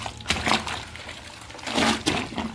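A white shirt is dunked into a basin of cold water, giving close splashes and sloshing pours in short bursts with quieter trickling between them.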